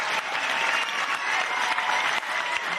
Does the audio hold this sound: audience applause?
yes